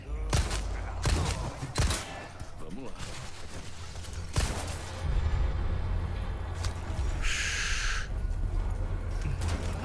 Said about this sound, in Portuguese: Agora eu preciso dar 3 tiros rápido no maluco que vai estar ali no cantinho.